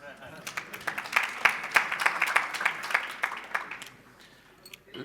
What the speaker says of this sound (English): Can't you clap for us?